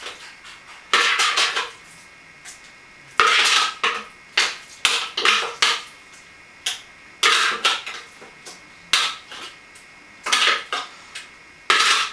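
Raw chili sauce being stirred into buckwheat for a raw chili sin carne, making a series of close, sharp spoon clinks and scrapes against the bowl in irregular bursts, with no talking.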